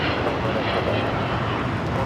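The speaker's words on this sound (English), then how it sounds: "This is United Airlines Flight 39 taking off to Tokyo, Haneda on the 787-10 Dreamliner" United Airlines Boeing 787-10 Dreamliner taking off from LAX, a loud steady broadband engine roar filling the whole span, with talk faintly beneath.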